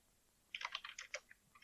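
Quick bursts of keyboard typing on a computer keyboard during a podcast chat, around a dozen light clicks in an uneven rhythm, close and fairly quiet with no talking.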